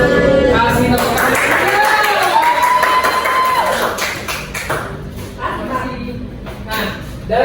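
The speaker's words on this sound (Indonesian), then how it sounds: "Kasih tepuk tangan." Classroom students clap together during a maths lesson, a lively burst of group clapping mixed with children's voices and cheering that gradually thins toward the end.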